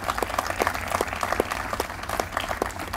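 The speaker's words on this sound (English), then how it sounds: "Can you give them a round of applause?" Steady applause from a crowd, many hands clapping at once, moderately loud and sustained for the whole stretch.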